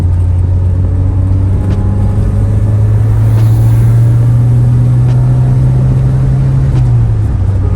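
A Lotus Esprit sports car engine drones loudly and steadily as it revs, its pitch slowly climbing before easing off near the end, with no talking.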